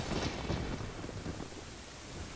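Thunder and rain in the Ocarina of Time game, with low rumbling thunder over a steady wash of pouring rain, soft and continuous with no talk.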